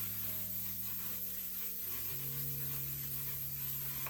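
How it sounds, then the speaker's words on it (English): A one-size makeup setting spray misted during a get-ready routine, a soft, airy hiss held steadily under faint background music, with no talking. "We're gonna be using our one size setting spray per use."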